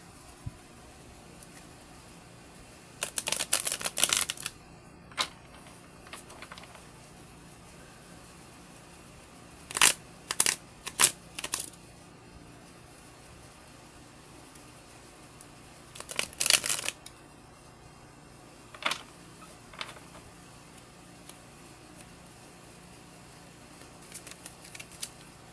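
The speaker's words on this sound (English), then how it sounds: "I'm gonna shuffle again." Tarot cards are shuffled in several separate bursts of crisp riffling and flapping, close and fairly loud, with quiet pauses between them.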